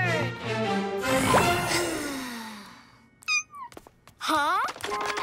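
A cartoon kitten meows a few times in short, high, sliding calls, mixed in with cartoon voices and sound effects.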